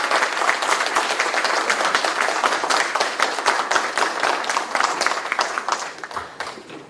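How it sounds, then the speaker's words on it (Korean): An indoor audience applauds at a Korean presidential campaign committee event in Gwangju, giving dense, sustained clapping that stays loud for several seconds before thinning slightly at the end. "박수 한번 주세요."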